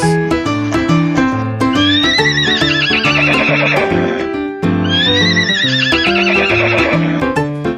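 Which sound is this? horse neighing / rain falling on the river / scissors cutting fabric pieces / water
horse neighing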